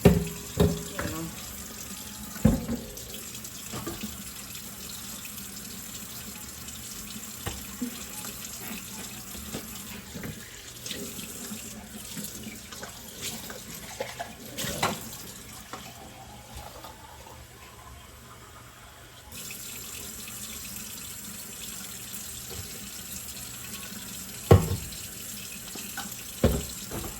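A kitchen sink tap runs continuously while bottles and baby items are washed, with a steady hiss of water, occasional clinks and knocks of items against the basin, and brief murmurs of talk in the background.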